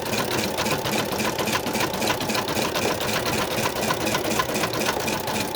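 An embroidery machine runs a zigzag stitch on an in-the-hoop paw Christmas stocking, giving a steady rapid mechanical chatter with a constant hum, close and unbroken throughout.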